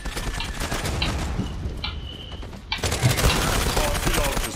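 Rapid bursts of gunfire from the online shooter Zula on a Gallipoli-style battle map, loud and close with dense automatic fire and a brief lull midway before heavy shooting resumes.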